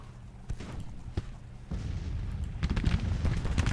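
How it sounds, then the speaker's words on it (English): Rifle volleys in a Civil War strategy game, Grand Tactician, with scattered distant cracks and booms building into a rolling crackle of massed musketry. "I think for sure we get a nice volley into Pettigrew."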